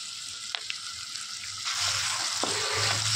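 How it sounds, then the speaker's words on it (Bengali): Chilli chicken sauce with soy sauce and tomato ketchup is stirred in a hot pan, a steady frying sizzle that swells louder partway through, with a few soft spoon scrapes, close and with no talking. "ভালো করে নাড়াচাড়া করে নিচ্ছি"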